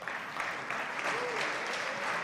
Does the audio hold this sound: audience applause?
yes